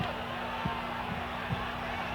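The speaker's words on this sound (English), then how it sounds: "The crowd picking up the momentum. They want DeNucci to come back" An arena crowd at a WWF wrestling show keeps up a steady roar with a few louder shouts rising out of it, and a commentator's voice can be heard under the noise.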